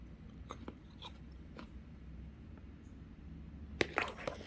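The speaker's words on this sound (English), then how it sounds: "Just found out this is not a potato. This is a pear. Or something. It crunches." Someone bites into a crunchy pear and chews it close up, with a few crisp crunches at the start and a louder cluster of crunching near the end over a low room hum.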